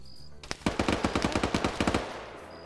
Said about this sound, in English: Kabubi makes the opening shot here with the PKP.